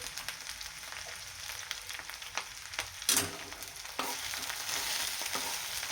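Okra sautés in oil with turmeric and salt, a soft continuous sizzle broken by scraping stirs and a sharp clatter near the middle, then a denser crackle, with no voices.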